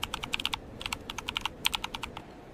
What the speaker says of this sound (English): Let me type the information into our airport computer system.